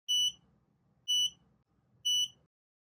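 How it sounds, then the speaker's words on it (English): Three short, high electronic beeps from an Aqara Curtain Driver E1 motor, evenly spaced about a second apart, clear and close in an otherwise quiet setting. "once they're ready the driver will beep 3 times."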